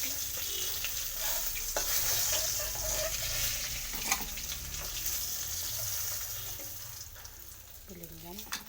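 Fish fry in hot oil in a kadai with a continuous close sizzle and occasional stirring clatter, a voice speaking quietly over the cooking sounds.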